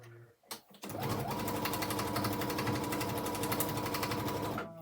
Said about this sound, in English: sew that piece together